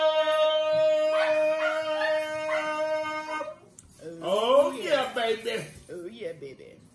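Dogs howl in a long, drawn-out chorus for New Year's, with sustained wavering tones. A person's voice then breaks in, rising and falling much like a howl. It sounds like someone imitating the dogs close to the mic.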